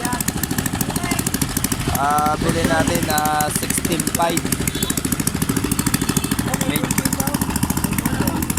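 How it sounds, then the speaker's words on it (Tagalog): A newly bought boat engine runs in a loud, fast, steady chugging clatter close by, while someone talks over it. "At tayo ay meron ng makina."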